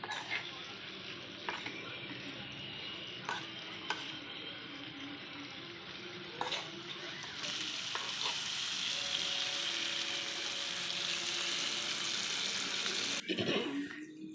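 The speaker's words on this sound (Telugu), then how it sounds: "బటర్లో ఇలా పన్నీర్ అనేది బాగా రోస్ట్ చేసుకోవాలి." Paneer roasts in butter in a pan with a constant sizzling crackle, close and steady, broken by a few clinks of a utensil stirring, growing slightly louder partway through.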